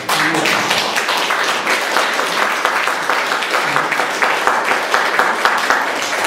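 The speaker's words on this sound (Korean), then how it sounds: "오늘 우리 반주하시는 분을 위해서 박수를 한번." A church congregation breaks into applause for the organ accompanist, a loud, full burst of many hands clapping steadily and close for over six seconds, with a faint voice briefly beneath it at the start.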